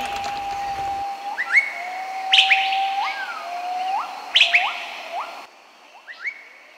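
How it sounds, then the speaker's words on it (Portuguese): Birds sing clear, repeated whistled phrases and rising chirps in a forest near a river in Ludesch, Vorarlberg, Austria, with several calls close and bright against a quiet background. "Estamos no meio da mata, no meio da floresta, indo pro rio e ouvindo os pássaros"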